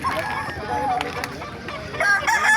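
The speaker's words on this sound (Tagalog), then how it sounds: "Ganda ng mga manok oh." A rooster crows amid a busy outdoor poultry market in Bocaue, its call rising over background chatter and other birds, getting louder toward the end.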